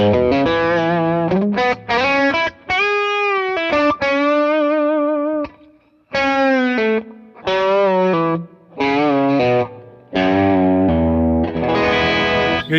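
An electric guitar played through a Plexi-Drive distortion pedal with tone and gain set, loud driven country licks with string bends in separate phrases broken by short pauses, and no voices.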